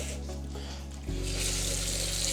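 Water streams steadily into rice for microwaving, a continuous close pour whose pitch shifts partway as the flow changes, with no talking.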